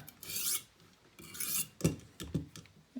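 A Green River knife is drawn across a sharpening stone in short rasping strokes, about four quiet close passes with small scrapes and clicks between them.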